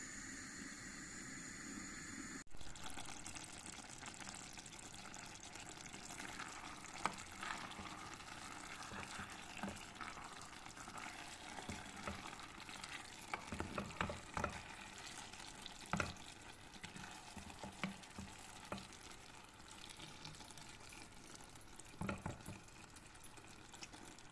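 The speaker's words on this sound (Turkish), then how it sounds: "Tenceremizin kapağını kapatarak kısık ayarda turşu pancarımızı pişirelim." A soft, steady bubbling and hiss of a beet pickle dish simmering on low heat in a covered pot, low and continuous, with occasional faint clicks and pops.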